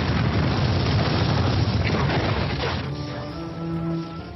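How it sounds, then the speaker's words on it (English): A massive night-time explosion at a house by the Edinburgh city walls, rendered as a dense, loud booming roar that rumbles for a few seconds and then fades into a lower, quieter tonal drone. "late one night there was a massive explosion"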